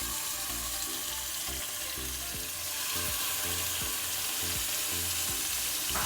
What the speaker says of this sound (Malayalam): ധൈര്യമായിട്ട് വറുത്തു.